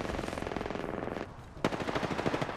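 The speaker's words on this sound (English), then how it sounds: "Shots fired, and they're hitting me." Rapid automatic gunfire in the Apex Legends Arenas mode on Thermal Station, a dense stream of loud close shots that briefly drops off and then resumes with a sharp impact and renewed bursts.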